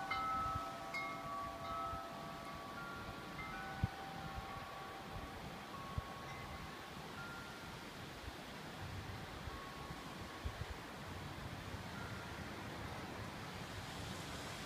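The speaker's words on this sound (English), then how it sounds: "Yep, the wind's coming from the south-southwest." A rare August windstorm in Western Washington blows from the south-southwest, a faint, steady outdoor rush with a few light knocks and a distant tone early on.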